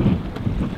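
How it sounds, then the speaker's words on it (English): Wind buffets the microphone aboard a sailboat heading toward Exuma, a steady low rushing roar with gusty swells, close and fairly loud, with no voices. "It is windy."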